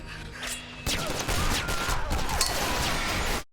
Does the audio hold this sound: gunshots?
yes